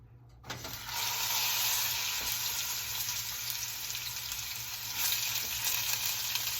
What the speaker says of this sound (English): I'm gonna start off with the fat side down so that fat melts